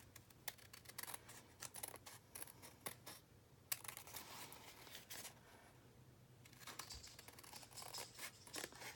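Quiet, repeated snips of scissors cutting paper up close, in quick irregular runs with a short pause midway, over a low steady hum.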